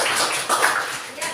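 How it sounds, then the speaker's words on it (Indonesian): Short burst of classroom applause, several students clapping in an uneven patter for about a second, fairly close, with voices mixed in. "Tepuk tangan dulu."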